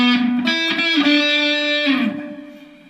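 An electric guitar played through an AmpliTube metal amp model with heavy distortion rings out in a few sustained, buzzing chords, restruck twice before the last one fades away at the end.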